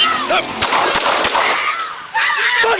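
Several sharp gunshot cracks in quick succession, loud and close, amid shouting voices.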